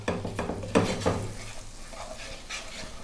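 Onions and garlic fry gently in a pan, a soft sizzle beneath a few clinks and scrapes of a spoon stirring against the pan, close and fairly quiet.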